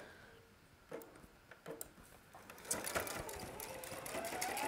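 A sewing machine stitches a yoke seam made with the burrito method, starting with a few short bursts before settling into a steady, building whir of stitching, moderately close and without talk.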